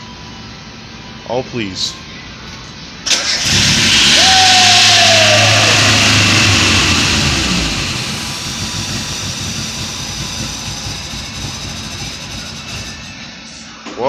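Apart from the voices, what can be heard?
engine cranking over and running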